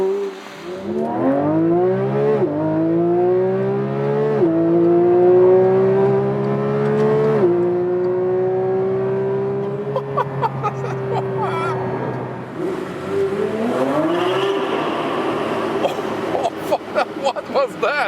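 A Porsche 911 GT3 Touring of the 992 generation drives under hard acceleration, its high-revving engine climbing loudly through the gears with sharp shifts between pulls, close and continuous.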